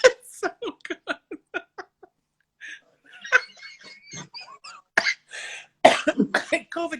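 A burst of rapid, short coughs comes in a quick series, followed by a pause, muffled sounds, and then more coughing and laughing.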